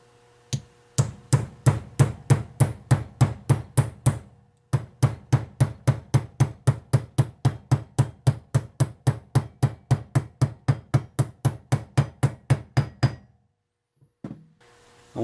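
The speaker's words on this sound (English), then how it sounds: "And that, just hammer until it's flush." A seal is hammered flush into an Eaton-style power steering pump from a Ford tractor: a long run of sharp, evenly spaced metallic taps, close and loud, with a short pause after the first burst before steady striking resumes and stops.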